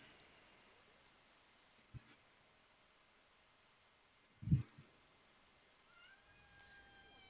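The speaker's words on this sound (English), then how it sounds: "My cat has decided to come bother me." A pet cat meows briefly mid-clip in a quiet room, a short close call followed by a few faint chirps, with a small tap earlier and soft background noise.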